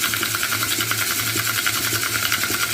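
Rotary polishing tumbler drum turning back and forth, producing a steady, close mechanical whir with a regular pulsing rhythm and faint periodic knocks, continuous throughout with no voices.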